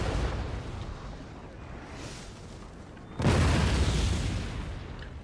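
Artillery fire in a Napoleon: Total War recreation of the Battle of Waterloo, a distant rumbling barrage with a heavier boom hitting midway, dense and continuous without talk.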